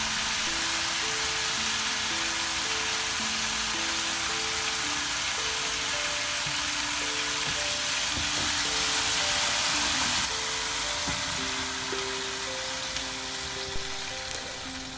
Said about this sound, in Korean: 미역이 꼬들꼬들해질 때쯤 국간장 3스푼과 참치액 4스푼을 넣고 잘 볶아주세요